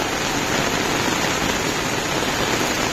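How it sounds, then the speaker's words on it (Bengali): Rain falls steadily outside during monsoon flooding in Karimganj, an even, unbroken wash of broadband hiss at moderate distance with no voices. "বাইরে তো বৃষ্টি বৃষ্টি"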